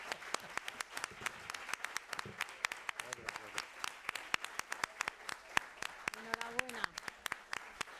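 Audience applause at a book presentation, a sustained round of sharp individual claps from a modest crowd, close and crisp, with brief voices and a cheer rising underneath.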